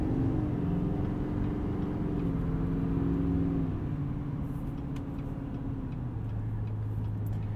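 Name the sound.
2020 Chevy Silverado 2500 Duramax truck driving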